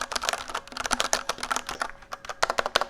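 Rapid, close-up typing on a mechanical keyboard with Cherry MX Red switches, a dense stream of light clacks with a brief pause midway, no talking.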